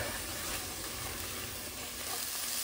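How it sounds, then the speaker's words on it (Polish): Chopped onion sizzles steadily in a hot frying pan with mushrooms, a close, continuous crackle with no talking. "Teraz pora, żeby dodać cebulkę. Mieliśmy bardzo malutką jedną cebulkę. Chwilkę podsmażamy i dodamy czosnek."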